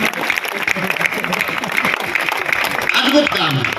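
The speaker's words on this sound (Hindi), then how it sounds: "एक बार तालियां बजा करके मुझे थोड़ा सा साथ दे दीजिए।" A crowd claps at a Hindi poetry gathering (kavi sammelan), with steady applause running throughout and voices mixed in beneath it.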